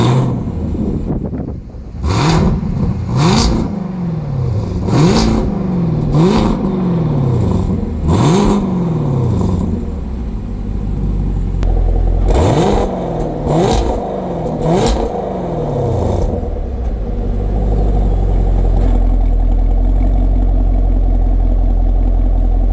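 A 2020 Chevrolet Camaro SS V8 barks through a series of sharp throttle blips, roughly a dozen revs rising and falling in quick bursts, then settles into a low, rumbling idle.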